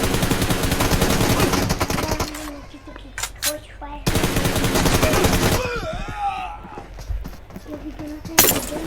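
Bursts of rapid gunfire in a mobile shooter game played on an iPad, dense rattling volleys alternating with short quiet gaps and a few sharp single shots.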